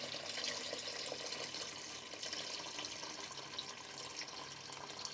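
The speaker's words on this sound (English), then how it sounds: "you're going to carefully strain that liquid gold off of there" Hot homemade turkey stock pours off the carcass as it is strained, a quiet, continuous watery rush with faint splashing and no talk.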